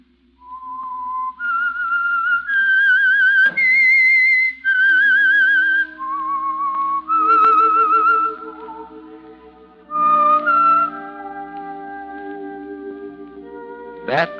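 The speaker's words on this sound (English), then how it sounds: "That whistle is your signal for the Signal Oil program, The Whistler." A whistled theme melody for The Whistler radio mystery program plays alone, a series of clear sustained notes climbing and falling, with echo and a soft orchestral backing emerging toward the end.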